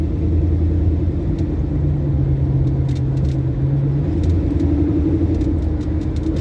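A steady, loud engine rumble and road noise fill the cabin of a 1973 Ford Mustang Mach 1 as it drives. The sound is continuous, with no talking.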